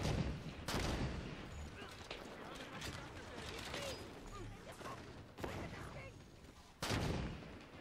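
Gunfire in the shooter Halo 5: Guardians, including sniper rifles; loud sharp shots at irregular intervals amid battle noise, with someone speaking German between them.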